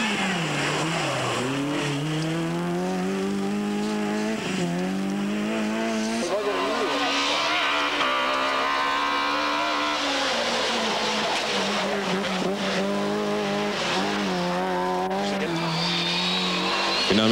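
A Nissan Sunny 2000 rally car at the 1996 Rally Appennino Reggiano in Italy drives hard past, engine revving and pitching up and down through gear changes with tire squeal, loud and continuous, with a commentator talking over it.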